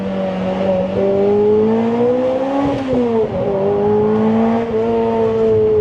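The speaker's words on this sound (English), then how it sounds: "you really got to rev the crap out of it" A Lotus Elise sports car's high-revving four-cylinder engine sings steadily from inside the cabin, pitch climbing and dipping with gear changes on a winding canyon road, loud and continuous with no talk.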